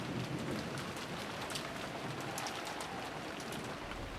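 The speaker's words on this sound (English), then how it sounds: "I began to remember the coldness of the raindrops that kept pounding down" Rain falls steadily as a sound effect in the visual novel game Umineko, a dense, even hiss of drops hitting surfaces with no pauses or voices.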